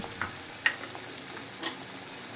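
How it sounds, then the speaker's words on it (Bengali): Spices and garlic frying in a pan for a chicken skin curry, a continuous low sizzle broken by a few soft stirring scrapes against the pan. "এটাও আমি একসঙ্গে খুব ভালো করে নেড়ে চেড়ে কষিয়ে নেব।"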